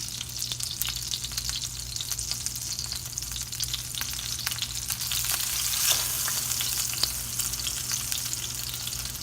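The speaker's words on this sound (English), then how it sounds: "frying 5 minutes on each side" Pork chops frying in a pan over medium-high heat, a steady close sizzle and crackle with scattered pops running throughout, no voices.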